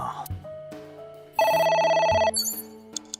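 A telephone rings inside the video game AI: The Somnium Files, its harmonic trill buzzing loudly for about a second amid softer in-game chimes and tones, with no one talking.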